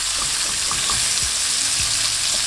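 Lamb chops sear in a hot pan with a steady, loud sizzle and spitting fat, plus a few soft scrapes and knocks as the meat shifts, and no talking.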